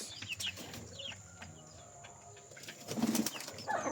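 Pigeons stirring and flapping their wings nearby, a few short soft bursts of wingbeats mixed with faint cooing and rustling, fairly quiet and close.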